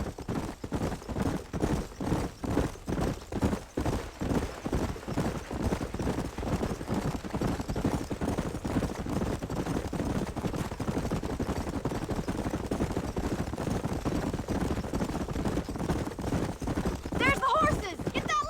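Horses clip-clopping at a steady gallop with occasional neighing in the Red Dead Redemption video game, rhythmic hoofbeats running throughout with a whinny near the end.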